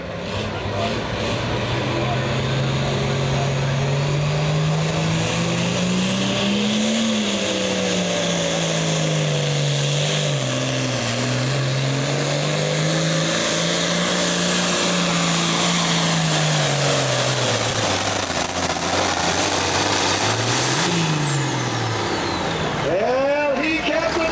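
A big Case engine in a pulling tractor at the 2003 American Tractor Pullers Association Midwest Summer Nationals, 9,300-pound Super class, roars loud and continuous with a rising and falling pitch across the whole run, ending with a sharp rise.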